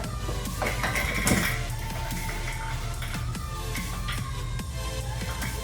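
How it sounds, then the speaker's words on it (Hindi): Heavy cooking pots and utensils being handled up close: a steady run of metallic clinks, knocks and scrapes with one louder clatter early on, and no voices. "हैवी बर्तन है ये, इसलिए इनको मैंने अपने कोरियर में नहीं लगवाया।"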